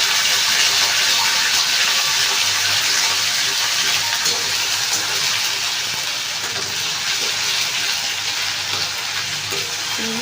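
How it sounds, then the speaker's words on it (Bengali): Ginger-cumin paste frying in a pan, a loud, steady, wet sizzle that hisses on evenly for several seconds with no talking. "ভালো করে মশলাটা ভেজে নেব।"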